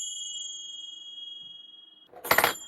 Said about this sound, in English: These instruments are called finger cymbals